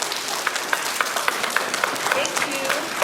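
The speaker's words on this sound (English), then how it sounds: "let's give them a big round of applause" A school assembly audience claps together in a dense, steady burst of applause for a few seconds, loud and close, with voices mixed in under the clapping.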